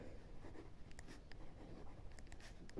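A pen scratches out a short written answer to a square geometry problem, giving faint, soft strokes and small taps in a quiet room.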